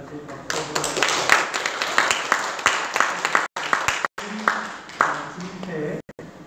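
A church congregation at a pastor installation and deaconess retirement service applauds in steady, dense clapping that fills the room, with voices mixed in and brief breaks near the end.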